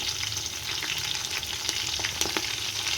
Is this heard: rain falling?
no